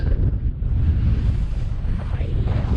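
Strong wind on the summit of Helvellyn mountain, a loud continuous roar buffeting the microphone close up without a break.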